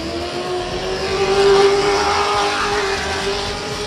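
A Baja 1000 race car pulls away from the start line beneath an arch in Cabo, its engine a loud, sustained roar that swells briefly and then holds steady, with no voices.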